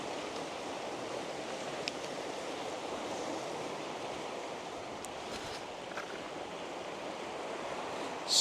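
Waves wash over a big-pebble beach at Binnel Bay on the Isle of Wight's Undercliff at high tide, a steady mid-distance surf hiss with some wind noise.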